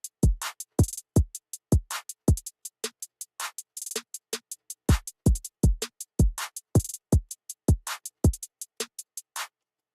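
An FL Studio beat plays as a drum pattern of punchy kick hits and crisp hi-hat ticks. The hits fall as short, separated, evenly rhythmic strikes with no voices, moderately quiet.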